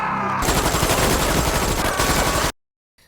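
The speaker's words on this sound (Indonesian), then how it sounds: "Dia mengamuk dan menembaki semua orang." Sustained automatic gunfire from a man shooting into a crowd in a film, a loud, dense rattle of shots lasting a couple of seconds before cutting abruptly to silence.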